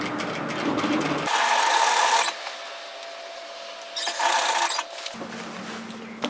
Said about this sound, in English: when you're ready, stitch it down